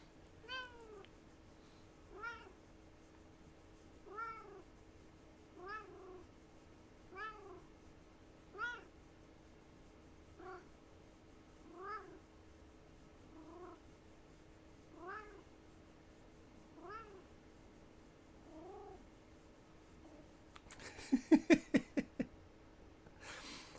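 A pet cat meows repeatedly at an even pace, about a dozen soft, fairly distant calls, ending with a short burst of louder rustling or handling noise.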